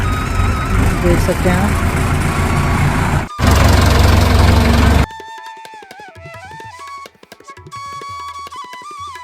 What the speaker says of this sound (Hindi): ये आ गया थ्रेसिंग के लिए, ट्रैक्टर आ गया यहाँ पर